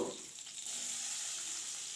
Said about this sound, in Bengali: মাছ ভাজার তেলে আলু দিয়ে দিলাম